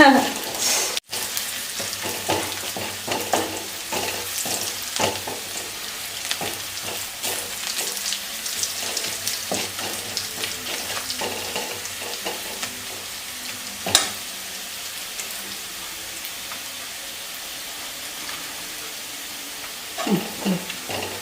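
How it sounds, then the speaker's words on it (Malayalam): Onions fry in a pan for a Kerala yam curry, a continuous close sizzle broken by repeated scraping and clinking as they are stirred, with a louder clatter now and then. "ഉള്ളി മൂത്ത് ഞാൻ ഫ്ലെയിം തീരെ സ്ലോയിലേക്ക് മാറ്റി"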